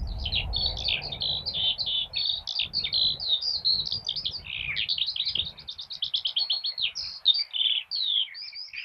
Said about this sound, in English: The elusive skylark is endangered